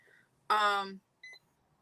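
A single loud electronic beep, harmonic and sustained for about half a second, followed by a shorter, fainter tone in an otherwise quiet room.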